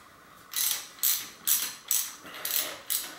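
Screws are being unscrewed on an RST 191 CS bicycle suspension fork, heard as seven sharp ratcheting clicks in a regular rhythm, close and fairly loud, with quiet gaps between turns.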